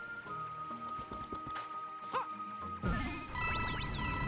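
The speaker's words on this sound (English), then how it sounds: "So many coins." Chiming jingles and dings of coins and pickups being collected in the video game Bowser's Fury, a quick series of bright tinkles over background game music.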